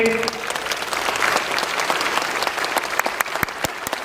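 Audience applause at a motivational speech event in Bhilwara, Rajasthan: dense, sustained clapping from a crowd, loud and even throughout with sharp individual claps standing out, no voices over it.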